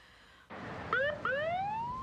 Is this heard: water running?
no